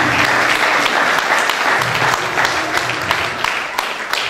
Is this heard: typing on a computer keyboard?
no